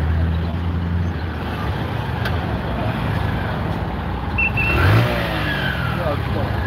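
A truck engine revs over a steady broadband road rumble, swelling briefly around the middle, with a voice speaking nearby.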